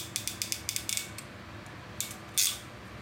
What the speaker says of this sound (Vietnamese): Bóp tách tách rất là đã.